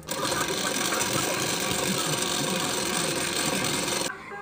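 A sewing machine runs continuously while stitching a strip on a blouse, a dense steady mechanical whir close by that stops abruptly near the end.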